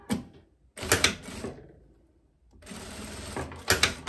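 A sewing machine stitches a tunnel into a linen dress belt, running in two bursts of rapid whirring separated by a quiet pause of about a second, close and fairly loud.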